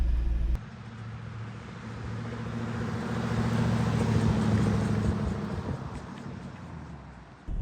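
A Chevy C60 truck wearing a Silverado body drives along with a steady low engine rumble and drone that swells gradually, then eases near the end.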